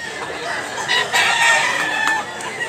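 A Golden Boy rooster, a bull stag at a Cebu fowl market, crows loudly and nearby in one drawn-out call amid a crowded background.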